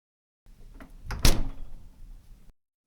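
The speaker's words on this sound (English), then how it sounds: "I pull the handle and open the door." A refrigerator door is pulled open by its handle in a kitchen: a few soft clicks, then one sharp thunk and a short rustle that fades away, heard close and alone.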